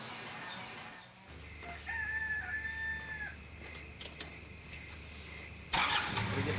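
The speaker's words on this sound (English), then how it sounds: "You can hear the roosters crowing." Roosters crowing in the early morning in a Thai town, two or three drawn-out calls at moderate distance over a low idling engine rumble and faint ambient noise, no speech.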